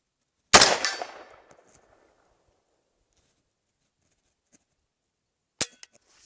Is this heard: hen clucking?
no